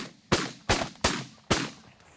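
Four shotgun blasts from goose hunters in an open field, loud and close, fired in quick succession at uneven intervals, each followed by a short decaying echo.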